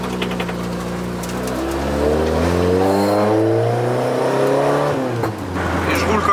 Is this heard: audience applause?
no